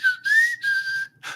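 A thruster gives off a loud, close whistle in several sustained tones that rise slightly, separated by brief gaps, with no one talking.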